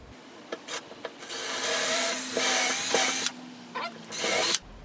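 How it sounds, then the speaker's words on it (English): A drill bores through a wooden dowel in short bursts, then a longer grinding run, with rasping and scraping between pulses, close up. "drill a hole clean through it, straight as you possibly can"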